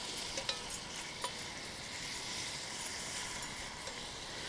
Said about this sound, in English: Go ahead and get that searing.